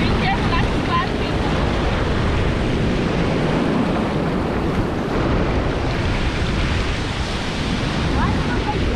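Surf rolls in continuously on a Florida beach, a broad, loud wash of waves mixed with wind buffeting the microphone, with no talk over it.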